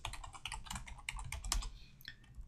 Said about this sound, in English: So here I'm typing butane and tab completing it.